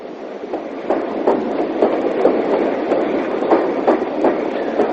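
A 1958 train on the approach into Paddington Station passes pilot engines, its wheels clattering over rail joints in a steady, loud, rhythmic series of clicks.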